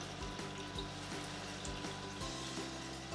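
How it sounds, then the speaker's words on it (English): Hands being washed under a running kitchen tap, a steady rush of water with faint splashing and small knocks, close and continuous, no voices. "Wash your hands."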